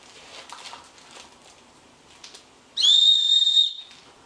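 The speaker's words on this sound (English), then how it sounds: "There's also a whistle here." A single sharp, shrill blast from a whistle on a running vest, lasting under a second, loud and close, after quiet rustling and handling noises.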